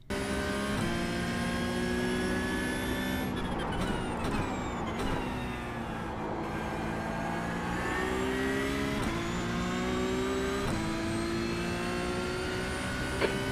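Porsche Cup race car in iRacing lapping Mount Panorama at Bathurst, a loud steady engine whine climbing through the gears with sharp drops at each upshift and lift, braking and accelerating repeatedly, with no talk.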